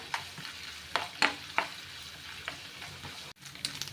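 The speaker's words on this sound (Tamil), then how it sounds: "தேங்காய் இப்படி சின்னதாக கட் பண்ணி இதில் ஃப்ரை பண்ணி எடுத்துக்கோங்க" Small cut pieces of coconut frying until crisp for sweet pongal, a close hissing sizzle with several sharp scraping stirs of a spoon against the pan, no voices.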